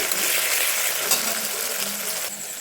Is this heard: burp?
no